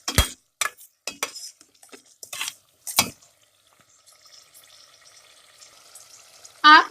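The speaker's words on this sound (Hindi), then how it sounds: "अब हम हाई फ्लेम पे इसको थोड़ी देर के लिए भूनेंगे।" Beef karahi with tomato paste stirred and fried in a wok over high flame, with sharp metal spoon scrapes and clinks in the first half, then a faint low sizzle and a loud final clatter.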